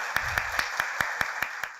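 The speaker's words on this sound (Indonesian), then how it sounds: "Tepuk tangan untuk Tarumanegara." A university audience claps in a steady, even rhythm, about eight crisp, evenly spaced claps close and fairly quiet.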